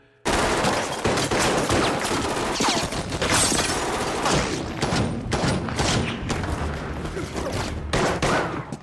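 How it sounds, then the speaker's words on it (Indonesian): Dense automatic and rapid gunfire as terrorists shoot at a wall in an action film about rescuing the president, loud and sustained bursts with heavy thuds continuing throughout. "para teroris langsung melepaskan tembakan ke arah dinding"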